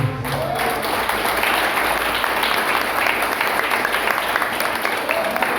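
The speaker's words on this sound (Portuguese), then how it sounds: "E aplauda o nome de Jesus." A church congregation breaks into sustained applause, dense clapping from many hands filling the room at a steady level with some crowd noise underneath.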